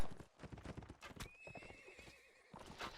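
Cavalry horses charge across a video game battlefield, hooves clip-clopping in a rapid, dense drumming, with a shrill neigh cutting through midway, loud and close.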